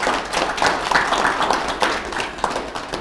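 An audience applauding for Nuria, a mother raising eight children alone, at a televised gathering: steady, dense clapping from many hands that carries on throughout without a break.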